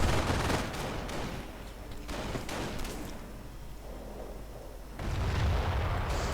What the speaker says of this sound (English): Point up here being held by a 30 caliber. Machine gun bunker holding the center.